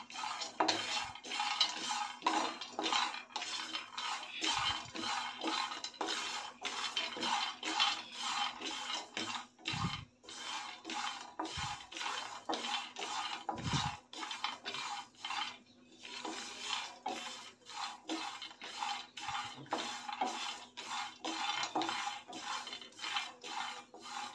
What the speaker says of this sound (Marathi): हे खोबरं, शेंगदाणे आणि तीळ हे मंद आचेवर मी भाजून घेणार आहे